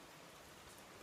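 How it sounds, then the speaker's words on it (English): Steady, even rain patters all around, a dense hiss of drops with no voices. "She's sitting on the doormat enjoying the rain"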